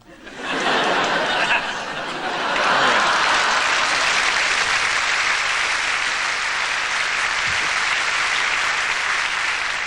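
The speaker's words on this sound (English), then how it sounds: "It's very nice of you to applaud cardboard." Theater audience at the Royal Variety Performance 1987 bursting into loud, sustained applause that swells after a second and holds steady, with some laughter mixed in.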